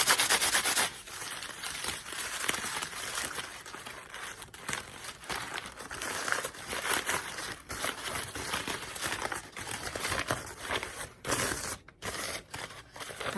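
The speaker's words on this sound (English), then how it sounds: "If you're using the 2 bags, you can rub the 2 bags together." Two bags rubbed together to soften their fibers give a quiet, scratchy friction sound of repeated rubbing and crinkling strokes, close up and alone.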